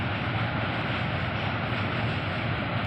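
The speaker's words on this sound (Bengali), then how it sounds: "ট্রেন যাচ্ছে ব্রিজের উপর দিয়ে।" A train crosses the Hardinge Bridge over the Padma river in Bangladesh, a dense, continuous rumbling roar of wheels and carriages on the steel span, loud and steady throughout with no voices.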